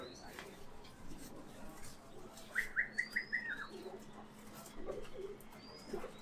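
Highflyer pigeons in a loft in Kathmandu, Nepal, coo and give a short run of chirping calls, faint and mixed with quiet talk in the background.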